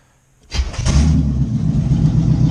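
A carburetor-swapped Chevrolet C4 Corvette engine cranks briefly and catches, then settles into a loud, steady idle close by, with no voices.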